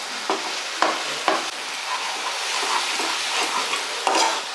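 A spoon scrapes and stirs lumps of jaggery into a thick, softly sizzling hog plum chutney in a pan, with scattered knocks against the pan and a continuous frying hiss, close and moderately loud.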